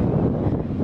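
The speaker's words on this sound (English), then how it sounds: "It's 5:24, so it's kind of chilly, like windy here." Chilly evening wind buffets the microphone at a beach, a brief, continuous low rumble with no voices.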